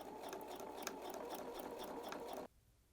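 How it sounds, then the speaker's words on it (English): A sewing machine runs steadily at a regular stitch length along the folded top edge of a horsehair braid hem. It whirs close and continuous for about two and a half seconds, then stops abruptly. "The last step is I'm going to be sewing close to this top folded edge that we got when we flipped everything over."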